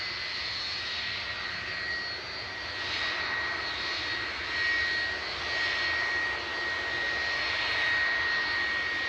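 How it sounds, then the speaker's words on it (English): A Jet2 Boeing 757-200, 32 years old, departing Manchester Airport bound for Antalya: a steady, loud jet engine roar with a high whine, swelling slightly as it climbs away, with no voices. "next up for departure though is Jet 2 heading over to Antalya. This is GLSAC, a 32-year-old 757-200"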